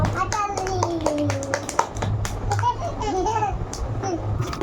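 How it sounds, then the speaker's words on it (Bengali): Children clap their hands together at home, a loose, uneven run of claps mixed with young voices chattering and babbling close by. "চিনির জন্য হাততালি দাও"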